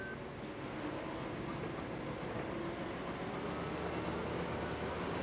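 A farm vehicle driven by an AI helper in Farming Simulator 15 rumbles along steadily during wheat threshing, a continuous broadband engine and rolling drone at even loudness throughout with no talking.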